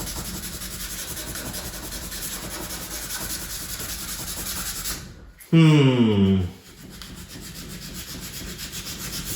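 Hand sanding the brown finish off a mid-century modern wooden dresser, a steady close scraping rub that runs most of the way through, broken by a short louder burst near the middle.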